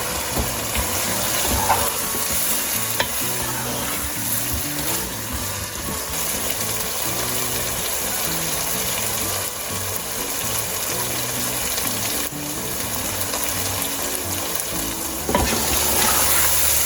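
Minced meat and potatoes fry in oil in a pan, giving a steady, loud sizzle with bubbling that carries on throughout, with no talking.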